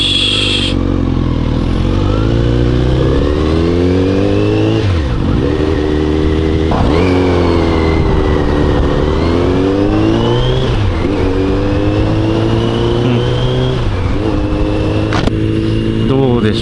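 A Kawasaki Z900RS Cafe fitted with a replacement muffler revs repeatedly, its engine note climbing and dropping in loud, close blips over a steady idle, with no talking.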